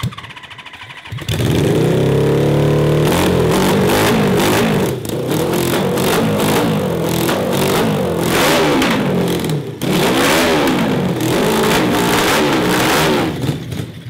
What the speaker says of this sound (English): It gets a little louder when you rev it up.